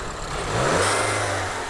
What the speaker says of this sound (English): the Evoque uses a direct injection turbocharged 4-cylinder engine